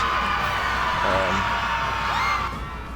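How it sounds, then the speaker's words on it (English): Screeching Women barbarian units in Rome: Total War let out shrill, wavering battle cries and whoops, a dense crowd-like clamour of yelling voices heard continuously over game battle noise. "You can hear my Screeching Women screeching there and waving their axes about."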